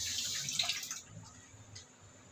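Vinegar poured into a pot of rice being cooked gives a brief hissing trickle for about a second, then fades to a few soft drips.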